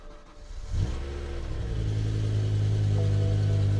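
A BMW engine with a six-speed manual gearbox starts and settles into a steady low idle rumble, close and continuous after a brief rise at the start.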